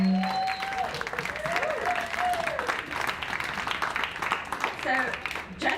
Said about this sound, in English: Let's give our artists a round of applause.